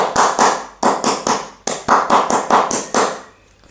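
Children perform the Pramuka scout clap: a crisp, close sequence of sharp hand claps in a set rhythmic pattern, grouped beats with short pauses, ending in a brief quiet moment.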